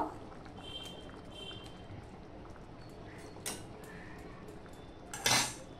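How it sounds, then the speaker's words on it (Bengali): A lid is set on a pot of prawn curry with mustard and poppy seed, making a light clink and then a louder metallic clatter against a quiet background. "একটু ঢাকা দিয়ে দিলাম।"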